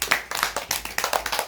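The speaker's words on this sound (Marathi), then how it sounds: "सगळ्यांनी टाळ्या वाजवा." A small group claps together in a quick, even rhythm. The sharp, close hand claps come in regular beats for a moment, and no one speaks.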